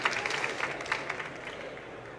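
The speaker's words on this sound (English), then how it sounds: "please give a round of applause to our picks." Audience applause at an investor pitch event, a dense burst of clapping from a crowd that is strongest at the start and gradually thins and fades.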